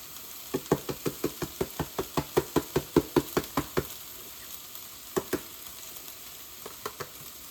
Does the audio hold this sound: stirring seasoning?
yes